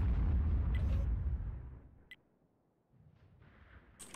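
A single loud, deep artillery boom from a World of Tanks self-propelled gun opens the scene, rumbling away over a second or so. A faint quieter stretch and small pops follow.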